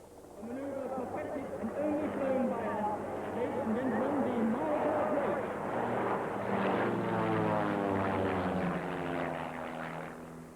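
Two-seat Pitts S2 aerobatic biplanes performing at the 1981 International Air Tattoo air show, their propeller engines droning loudly and continuously with shifting pitch while someone talks over them.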